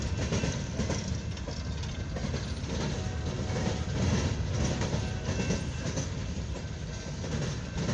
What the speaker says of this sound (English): We got a southbound to an eastbound CSX coal hopper train.